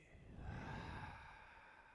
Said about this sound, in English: Inhaling deeply, exhaling audibly.